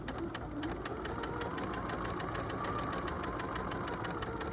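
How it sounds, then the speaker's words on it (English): A sewing machine stitches a quilt seam at a 1.8 stitch length, a soft, steady, rapid mechanical patter that runs evenly throughout at moderate volume with no talking. "we're gonna sew down the line"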